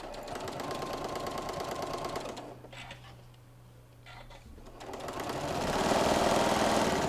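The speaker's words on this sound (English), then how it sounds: "So put that in your machine and sew 1/4 inch." A sewing machine stitching fabric a quarter inch from the edge for a clutch wallet, running in a fast mechanical rattle, pausing briefly in the middle, then starting again and running louder toward the end.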